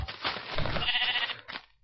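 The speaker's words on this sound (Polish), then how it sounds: "Owca! Zabić owcę." A sheep in a Minecraft-like video game gives a single short, fairly loud bleat, alone.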